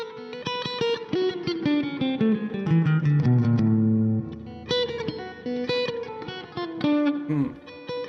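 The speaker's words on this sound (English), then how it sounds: "with economy picking, what you're doing is you're going down, up, down, down" An electric guitar plays an economy-picking run with a quick stream of picked single notes, then a brief held note before the rapid picking resumes. It is played close and alone, with no talking.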